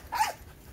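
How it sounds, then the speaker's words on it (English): A single short dog bark, fairly close and sharp, with a brief growly edge, then quiet. "I apologize for the dog barking."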